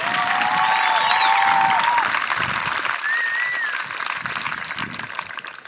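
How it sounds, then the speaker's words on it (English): Sustained applause from a crowd at an elementary school graduation, honoring the teaching staff; steady dense clapping that fades somewhat toward the end, with faint whistles or cheers over it. "can we give the Weaverville teaching staff a big round of applause?"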